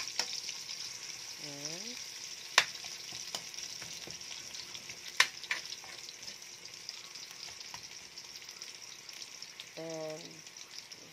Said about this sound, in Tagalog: Just saute it.